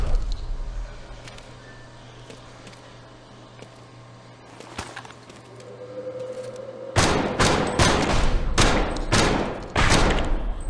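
Rapid bursts of gunfire in the co-op video game Dead Horizon Reloaded, faint scattered shots at first, then a loud close volley of repeated blasts in the final few seconds.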